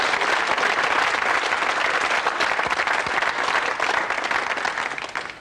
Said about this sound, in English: Another round of applause for the Blues